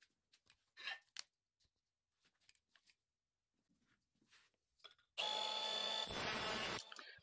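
A power tool cuts a car body panel piece to length, a loud steady burst lasting about two seconds after scattered faint handling clicks and scrapes.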